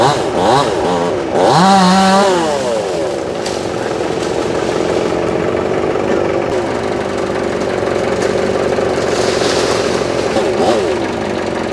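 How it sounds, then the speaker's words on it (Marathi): A chainsaw cuts the branches off a tree whose roots burned in a grass fire at Peddem, Mapusa, the engine revving loudly and idling in a continuous outdoor drone, with voices faintly audible behind it. "आता झाडाच्यो फांदयो कापून बाकीचे सगळे कंप्लीट जाल्लेले आहा."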